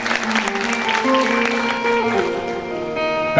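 An audience applauds at a Gujarati folk song event honoring Meghani's literature, steady clapping under a sustained musical drone with a voice faintly present.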